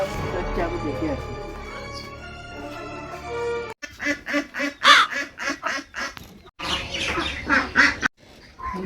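Hens in a village household cluck and squawk in irregular bursts, close and fairly loud. Talk comes first, then the birds call in clusters with short pauses between them.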